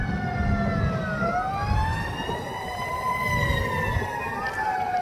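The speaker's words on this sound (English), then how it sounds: "let me let the ambulance go by" Ambulance siren passing on a city street, a loud wailing tone sweeping up and down continuously over rumbling traffic.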